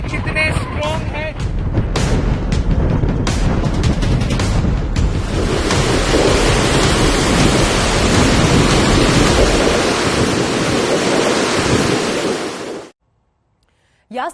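Cyclone Yaas drives strong winds and waves onto the Odisha coast, a loud roaring rush of wind and surf that builds and stays heavy, with voices heard briefly early on, before it cuts off abruptly.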